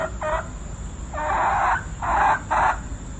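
Chickens clucking nearby, four short bursts of clucking with brief pauses between them, clear over faint background noise.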